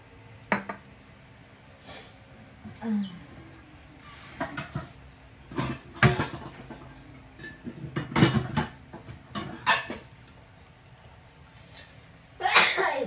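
A sneeze bursts out in a kitchen while ground chicken with string beans is being stir-fried, set among clinks of pots, utensils and glass and some brief background voice.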